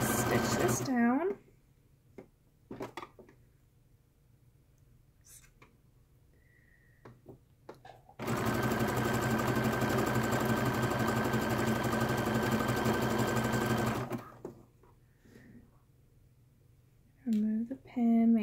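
Domestic sewing machine stitching down the elastic on a bra's upper back band, running in one steady whirring burst of about six seconds, with talk before and after.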